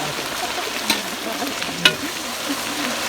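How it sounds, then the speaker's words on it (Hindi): Steady sizzling of ginger, garlic and onion frying in a hot kadai, with a couple of light clinks from stirring. "अदरक लहसुन प्याज एक कढ़ाई में डाल रहा हूँ।"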